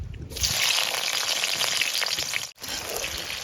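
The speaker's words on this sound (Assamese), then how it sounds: "অলৰেডি তেল গৰম হৈ গ'ল। এতিয়া আমি পিঁয়াজ দিছোঁ।" Sliced onions hitting hot oil in a home kitchen, a loud, steady broadband sizzle that starts abruptly, holds strong for about three seconds, dips briefly, then resumes.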